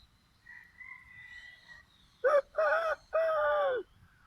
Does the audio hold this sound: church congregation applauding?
no